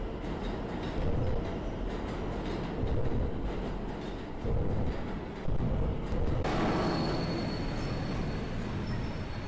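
A subway train arriving in a horror video game, a continuous heavy rumbling and rattling of rail cars that runs loud and steady throughout, with no talk.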